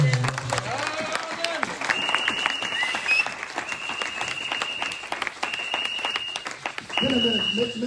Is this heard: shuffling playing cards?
no